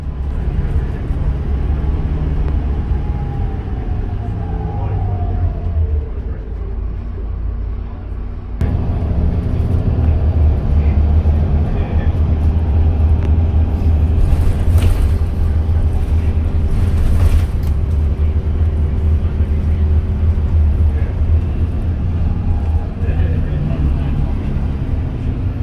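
Steady low engine drone and road rumble inside a Busabout MAN 19.320 bus with Bustech VST body, travelling between Wollongong, Illawarra and the Shoalhaven, loud and continuous throughout with a slight lift partway through and talk over it.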